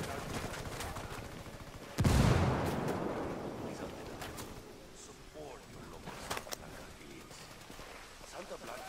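Frag grenade explosion in the video game Tom Clancy's Ghost Recon, one sudden deep blast with a rumbling decay, followed by scattered gunshots and faint movement.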